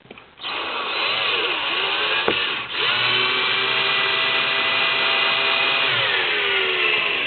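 A power drill whirs steadily at close range, running nearly continuously with a brief dip, its motor pitch shifting slightly as it drives a screw into plastic speaker pods on a 2015 Jeep Wrangler JK Unlimited.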